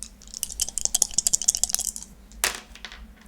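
Dice for the Space Crusade board game clatter and rattle across a hard surface in a quick run of small clicks, then a second sharper tumble lands a moment later, close and crisp.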